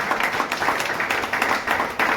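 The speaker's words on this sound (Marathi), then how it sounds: "एकदा जोरदार टाळ्या वाजवण्यासाठी" Audience clapping at a hotel management seminar, a brisk, continuous round of applause from a crowd, fairly loud and even with a slight swell near the end.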